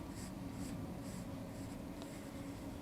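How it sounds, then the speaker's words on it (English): A pencil scratches across paper in several steady strokes while a baby hat pattern is drafted, with a soft, close scraping sound and no talking. "You place your pencil and then you connect it all the way down like that."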